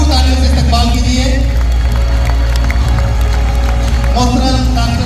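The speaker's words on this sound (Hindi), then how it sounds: "भरपूर तालियों से इस्तकबाल कीजिए" Audience at a mushaira poetry gathering in Muscat applauding and cheering, a loud, continuous mass of clapping with voices and a low hum running under it.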